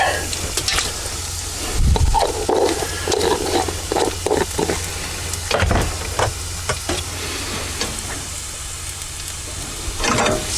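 Garlic frying in oil in a pan for chicken cacciatore, a continuous close sizzle with occasional stirring clatter, broken by a few louder thumps and bursts of talk.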